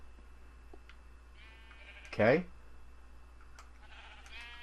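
A single sheep in the video game Minecraft gives one short, clear bleat midway through, set against a quiet background with someone briefly speaking.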